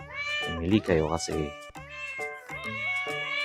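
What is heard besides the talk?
cats meowing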